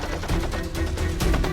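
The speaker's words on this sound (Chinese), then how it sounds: "小宋，你怎么对自己人开枪？" Gunfire in a Chinese wartime spy drama crackles as a rapid burst of sharp, closely spaced shots, loud and near, with no talk over it.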